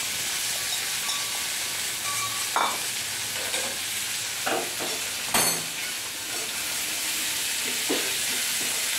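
Curry leaves dropped into hot oil in a pan give a steady, loud sizzle and hiss, with occasional sharper crackles and stirring scrapes over the continuous frying noise.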